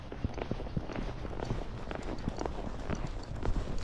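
A Tennessee Walking Horse mare named Minnie walks a trail alone, her hooves landing in soft, quiet, irregular clip-clops with faint background noise.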